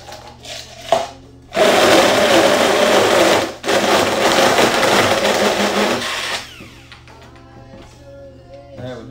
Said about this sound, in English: We're gonna use a hand blender.